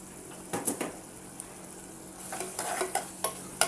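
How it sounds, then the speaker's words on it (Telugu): Chana dal and fresh coconut curry with masala powders is stirred in a pan, giving soft scraping strokes in short bursts over a faint sizzle, close and quiet. "ఇప్పుడు దీన్నంతా ఒకసారి బాగా కలబెట్టేసుకొని"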